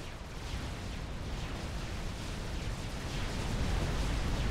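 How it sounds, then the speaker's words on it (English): Units blow up in the real-time strategy game Supreme Commander as they lose power, a dense, continuous wash of overlapping explosions and booms that holds steady and grows slightly louder. "Look at all of those things exploding because they have no power"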